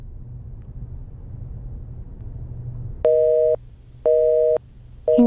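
Low background rumble gives way to a telephone busy signal: three loud, steady electronic tone bursts of about half a second each, separated by equal silences, heard close through the receiver.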